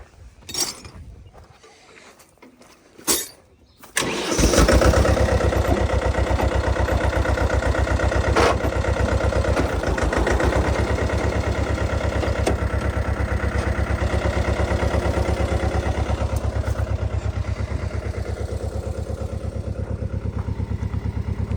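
After a few knocks and clatters, a tractor engine used for spraying a grape vineyard starts and then runs steadily with a close, loud, even chugging drone that continues to the end, with no talking.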